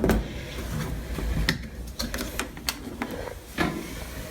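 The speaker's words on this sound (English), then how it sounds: "I'm just gonna give it a good shake." A container of homemade liquid laundry detergent is shaken hard, giving a series of sharp sloshing knocks and rattles at close range in a quiet room.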